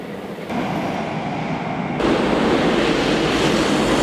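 A passing train produces a steady, broad rushing rumble that grows louder partway through, heard close by with no voices.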